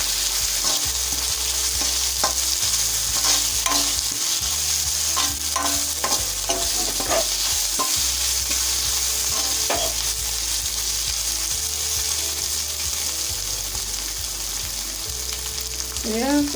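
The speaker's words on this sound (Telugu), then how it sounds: "ఇప్పుడే మనం నువ్వులు వేసుకోవాలి. బాగా కలుపుకొని" Sesame seeds are stirred into amaranth leaves frying in a pan, giving a continuous sizzle with repeated scraping and clinking of a spoon against the pan, close and steady under a low hum.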